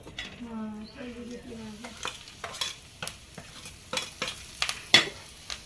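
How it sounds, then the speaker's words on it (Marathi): Grated coconut roasting in oil in a pan for a spicy egg curry, with repeated scraping stirs and soft clatter over a low sizzle, after a brief voice-like tone at the start. "खोबरं खीस पण मी तेलामध्येच भाजून घेणार आहे"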